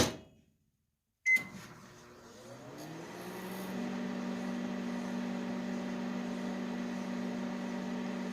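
A high-powered microwave oven, around 3000 watts, with a fork inside, starts with a click and settles into a steady low electrical hum that grows slightly louder and holds, with faint crackles early on, no talking.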